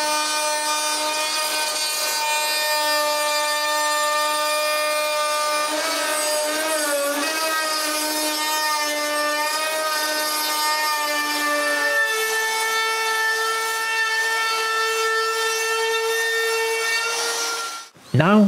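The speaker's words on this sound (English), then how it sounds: "I cut more cedar and route a rabbit at each end." A power router cuts rabbets into cedar planks with a steady, loud whine whose pitch shifts and drops partway through as the load changes, before stopping abruptly.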